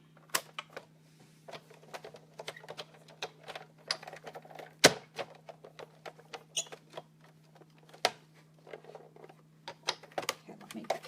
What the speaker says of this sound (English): and then I'm just going to cut this out.